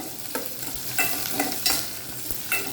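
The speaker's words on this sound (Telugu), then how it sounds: "కొంచెం కొంచెం వేగిద్దాం" Coriander seeds and split lentils fry in a pan, a soft steady sizzle broken by sharp scrapes and clicks of stirring every half second or so, with no voices.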